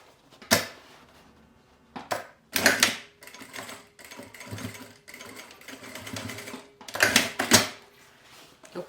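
Sewing machine stitching a backstitch on a fabric pencil case, with bursts of rapid mechanical stitching separated by brief pauses, close and moderately loud, no talking.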